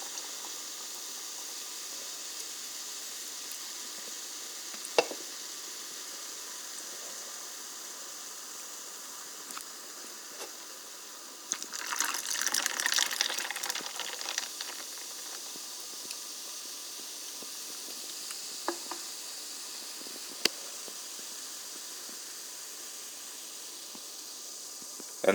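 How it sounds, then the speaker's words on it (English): Mug root beer poured from a can into a mug, a burst of fizzing and splashing in the middle against a steady background hiss, with a few isolated clicks around it. "now you open up this can of mug root beer and you pour it into this mug"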